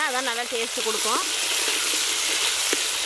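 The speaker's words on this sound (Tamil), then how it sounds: "வெங்காயத்தை வந்து நல்லா வதக்கிக்கலாம்." Small onions sizzle and fry steadily in a pan for a Tamil onion curry, a close, continuous crackle running under a woman's speech early on, with a faint stir or clink near the end.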